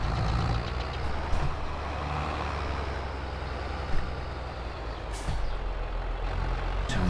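A tractor in the farming game Farming Simulator 22 drives steadily, its low diesel engine drone continuous and loud throughout, with a couple of brief hissing air-brake-like bursts and faint beeps along the way.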